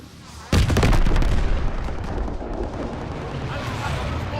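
A sudden heavy burst of gunfire and explosions erupts in the Call of Duty WW2 story mode battle, loud and close, then rolls on as dense rumbling combat noise that slowly thins out.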